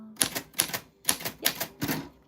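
A typewriter clacks out five distinct, crisp keystrokes in an uneven rhythm, each with a sharp metallic strike and brief mechanical rattle, close and clear with no talking.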